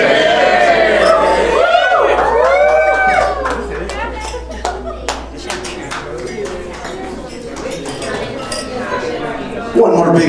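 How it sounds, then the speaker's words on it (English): Glasses and cutlery chink repeatedly in sharp, scattered clinks at a wedding toast to the couple, close and bright over crowd murmur and voices talking throughout. "Please join me in raising a glass to the beautiful couple."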